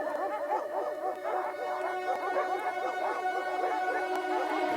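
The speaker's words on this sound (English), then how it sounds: "The dogs are barking today." Several dogs bark, yip and howl in quick, overlapping bursts, a busy, continuous chorus of rising and falling calls at moderate loudness.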